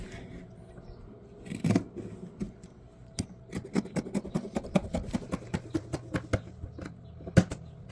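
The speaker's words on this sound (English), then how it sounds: "you're going through about 4 layers of material when you're cutting these strips" Sharp scissors that are a little dull snipping through about four layers of folded T-shirt fabric strips, a close run of crisp repeated cuts in quick succession with a few heavier rustles of cloth.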